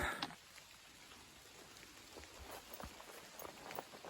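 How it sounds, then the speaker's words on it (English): Steady light rain patters softly on a surface on the Appalachian Trail, with scattered drops tapping irregularly throughout, faint and close. "It's raining again."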